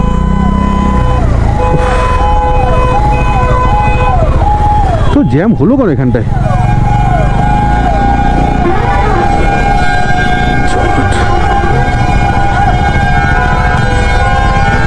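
An ambulance siren wails with a rising and falling tone, stuck in heavy highway traffic in Bihar on a Kolkata-to-Prayagraj motorcycle trip, with engine noise and honking around it while a rider speaks over it.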